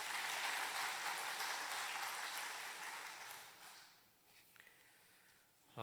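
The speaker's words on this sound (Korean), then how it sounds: "우리 아름다운 찬양으로 영광 돌린 코람데오 찬양대를 위해서 격려의 박수 부탁드리겠습니다" A church congregation at a worship service applauds the Coram Deo choir with dense, sustained clapping. It fades after about four seconds, and a brief sound cuts in at the very end.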